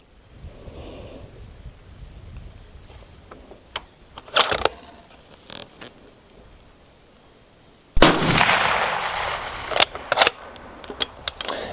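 A Sig Cross 6.5 Creedmoor rifle fires at long range, with a sharp, loud shot cracking out near the middle followed by a few smaller pops and clicks over quiet outdoor background.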